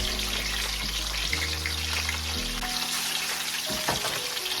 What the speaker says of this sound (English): You have to make sure your oil is hot guys, so your fish doesn't stick to the pot.